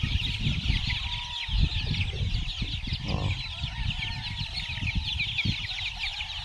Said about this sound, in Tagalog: Yan, palalabasin na yung mga sisiw. Saya-saya nila, saya-saya nila.